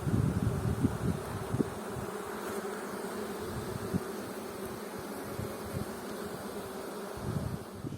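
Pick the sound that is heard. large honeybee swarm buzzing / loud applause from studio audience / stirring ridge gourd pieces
large honeybee swarm buzzing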